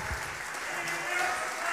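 Audience applauding a band at a maritime culture festival concert in Rzeszów, steady dense clapping throughout while an announcer speaks over it.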